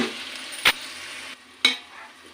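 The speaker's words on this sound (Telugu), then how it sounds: "ఇప్పుడు కట్ చేసి పెట్టుకున్న టమోటా ముక్కలు వేస్తున్నాను." Chopped tomatoes frying with onions in a pan for chicken biryani, a soft close sizzle broken by two sharp scraping stirs, quieting after the first, no voices.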